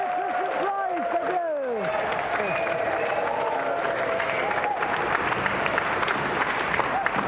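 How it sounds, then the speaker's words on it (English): A studio audience applauds and cheers a game show winner, a dense wash of clapping that carries on steadily after a few brief rising whoops from a presenter's voice at the start. "Another round of applause for our winner and our Golden Music Christmas prize."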